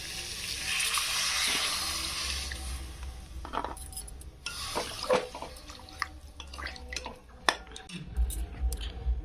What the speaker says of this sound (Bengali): কষে নিয়েছি এবার জল দেবো এখানে